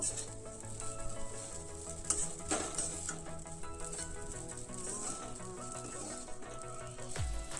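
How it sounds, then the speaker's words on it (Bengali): Semiya upma with chili powder stirred in a pan, a steady soft sizzle with scraping and light clinks throughout, a faint continuous tone beneath, no talking. "সামান্য একটু লঙ্কা পাউডার তারপর একটু নাড়াচাড়া করে নেব"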